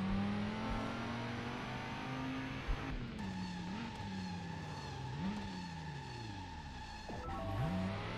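A car engine in the Driver San Francisco video game revs and shifts through the gears, steady and loud, with a brief tire squeal as the car brakes for a handbrake stop.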